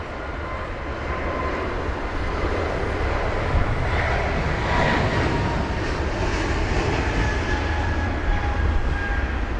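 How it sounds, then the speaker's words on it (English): Airbus A220-300 jet airliner taking off from London Heathrow, bound for Sofia, with a steady loud engine roar and rumble from close by, throughout and alone without talk. "There it is, flight number FB852 for Bulgaria, A220-300 with the reg Lima Zulu Lima Oscar November off to Sofia"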